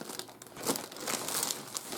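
Plastic Temu shipping bag being cut open up close, a dense crinkling and crackling of thin plastic with a few sharper tearing bursts, no voices.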